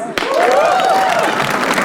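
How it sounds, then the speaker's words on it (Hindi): An audience at a comedy roast show breaks into applause and cheering, a loud, continuous wash of clapping with voices whooping and shouting over it, close and sustained. "ओंकार के लिए तालियां प्लीज"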